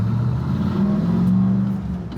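A 1000 hp turbocharged Trans Am accelerates hard with the clutch fully out, a loud steady engine drone with low rumble and a rising whine, close up inside the car with T-tops off.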